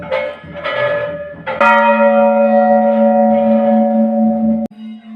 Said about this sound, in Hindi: यहाँ पे लोग कह रहे हैं कि ये सबसे बड़ी घंटी है